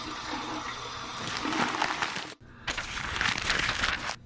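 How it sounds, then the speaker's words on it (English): Cold water runs steadily from a bathroom tap for rinsing after a shave, a close, continuous splashing rush that breaks off briefly and then resumes just as strongly. "Here's my cold water rinse."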